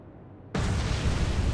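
A torpedo strikes a large freighter in the naval game Atlantic Fleet, bursting into a sudden loud blast that holds as a roaring, rumbling wash after a quiet lead-in.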